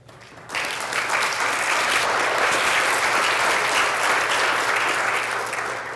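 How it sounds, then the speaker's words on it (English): An audience at a plenary session breaks into sustained applause, with dense clapping that rises quickly, holds strong and steady for several seconds, then eases slightly. "you'll be applauded in absentia without due process"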